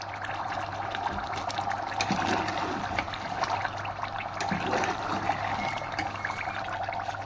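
Water poured into a pot of lentils and mutton frying together, a steady broad pouring and trickling wash with a faint low hum running underneath throughout.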